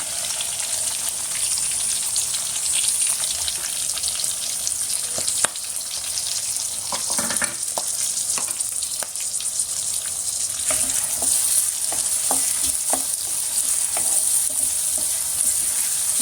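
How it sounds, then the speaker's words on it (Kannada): Onions fry in oil in a pan while being stirred, a continuous bright sizzle with scraping and clinking from the utensil, close by and without any talking. "ಈರುಳ್ಳಿ ಹಾಕ್ತಾಯಿದ್ದೀನಿ"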